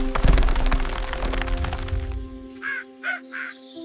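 A crow perched in a tall palm tree in a village gives three short, harsh caws in quick succession, following a burst of dense rustling and thumping noise.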